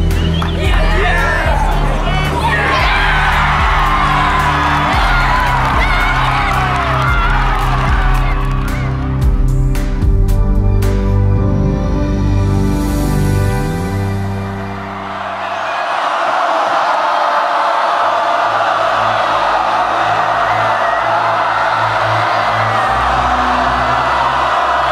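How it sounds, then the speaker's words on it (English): Crowd cheering at a school rugby match, a loud sustained roar of many voices with whoops and shouts, rising and falling, with music swelling underneath. "you have a crowd that rises and falls on every play"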